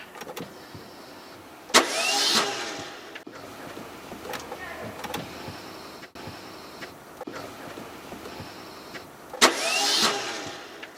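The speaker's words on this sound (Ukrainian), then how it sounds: "стартер не прокручував колінва і звук нагадував більше несправність самого стартера, а не двигуна" A damaged Dacia Logan's starter motor whirrs without turning the crankshaft, sounding like a faulty starter; two loud, rising cranking bursts come several seconds apart, with quieter mechanical noises and some talk in between.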